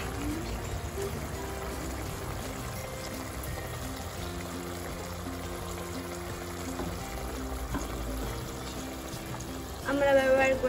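Coconut milk pours into a simmering prawn malai curry in a pan, a steady liquid stream running continuously over a dense cooking background, with a brief brighter splash near the end.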